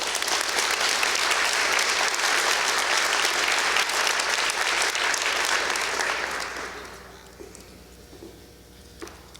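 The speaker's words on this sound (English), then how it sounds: "Let's give another round of applause to Yasmin and Diala for sharing their stories." An audience at an immigration executive order signing gives a long, dense round of applause, steady and full for several seconds before tapering off into quiet room tone.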